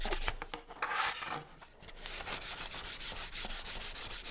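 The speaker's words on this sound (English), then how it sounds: "Sand right through the paint. Expose some of the wood at the edge." Sandpaper rubbing through paint on painted wood to distress the corners and edges, heard as a steady run of close, rhythmic back-and-forth scratching strokes with no talk.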